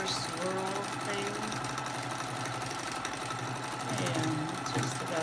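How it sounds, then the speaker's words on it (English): Domestic sewing machine running continuously while free-motion quilting a vintage-style Ten Sisters grid quilt on a Cutie Frame, a fast steady mechanical whirring and needle chatter, loud and close, with someone talking over it. "I'm just swirling and making sure I get all the spaces quilted. Sort of a meander swirl thing."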